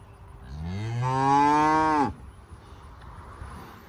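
A cow at a ranch lets out one long, close moo that rises and then cuts off sharply. It stands beside a Tesla Cybertruck, and only quiet background remains afterward.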